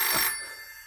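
An old-time radio-show telephone bell gives one short, close ring that fades quickly.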